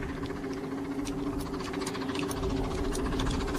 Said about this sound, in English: It's a steam engine and travelling at speed.